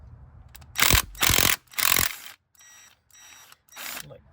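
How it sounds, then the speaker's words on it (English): Ratchet fitted with an 8mm socket loosening valve cover bolts on a GMC Yukon, Suburban or Escalade engine, clicking in several short bursts of rapid pawl ticks separated by pauses, close and moderately loud. "Using an 8mm socket, take out the valve cover bolts."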